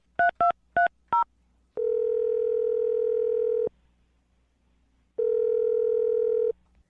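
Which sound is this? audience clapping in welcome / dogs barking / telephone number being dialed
telephone number being dialed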